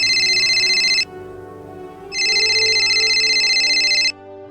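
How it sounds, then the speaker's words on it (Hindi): A telephone rings in two long electronic bursts with a gap between them, loud and close, over a soft background hum. "फोन की घंटी बज उठी"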